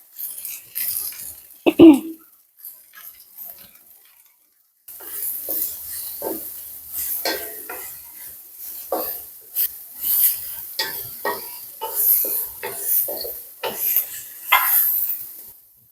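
Beetroot stir-fry sizzles in a pan while being stirred, a soft, steady hiss with scraping stirs, plus a brief knock early on and a quiet pause before the sizzling picks up again.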